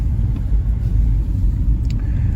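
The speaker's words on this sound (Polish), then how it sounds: "Jedziemy sobie powoli, bo tutaj jest nierówno." Car rolling slowly along an uneven sand mine road, a loud steady low rumble of engine and tyres with small bumps and a faint rattle.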